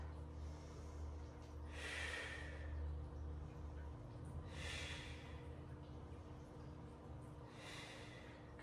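Heavy, rhythmic breathing during a cardio and weights workout, with three broad exhales or snorts spaced a few seconds apart over a low steady background hum, close and moderately loud.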